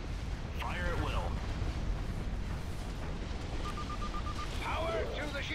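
Starship weapons fire and explosions from the space battle game Empire at War rumble as a dense, continuous barrage of booms under short bursts of synthetic radio-style voice chatter.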